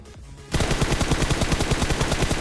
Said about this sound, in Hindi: भाई सामने बहुत तगड़ी फायरिंग चल रही थी